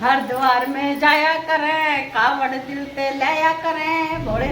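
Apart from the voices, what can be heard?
None of the usual background noises is heard.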